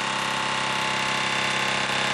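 A Mamod SP5 model steam engine runs with steam exhausting from its cylinders into the chimney, giving a dense, steady hiss and rapid mechanical chuffing close by, loud and unbroken throughout.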